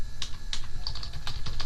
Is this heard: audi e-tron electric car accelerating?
no